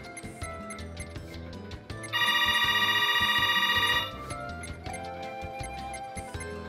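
An in-game phone rings in World of Final Fantasy, a bright electronic trilling tone lasting about two seconds over steady game music.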